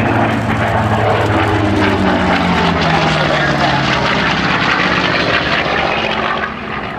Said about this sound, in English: We also have the Douglas Dauntless flying by.